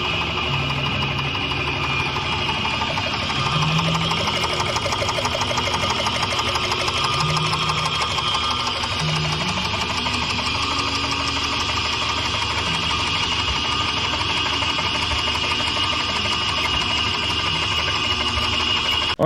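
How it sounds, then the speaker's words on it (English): A lathe with a boring head cuts a pivot hole in a dozer blade's six-way frame, giving a steady, continuous mechanical whir and hum with a faint rhythmic chatter that runs unbroken throughout, with no talking. "We put it in the lathe here, and we use the boring head to make this hole"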